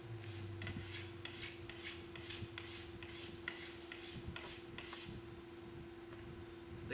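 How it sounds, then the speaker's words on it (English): Sharp plastic scraper shaving down a P-tex repair along a ski base, a steady run of rhythmic rasping strokes with a constant low hum underneath, close and moderately loud. "The key is to have a sharp scraper and a steady hand, and then come one more time down the whole repair area to see if there's any high spots."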